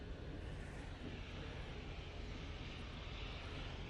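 A Ryanair airliner arriving from Dublin at Manchester Airport sounds as a steady, distant broadband roar that holds evenly throughout, with no voices.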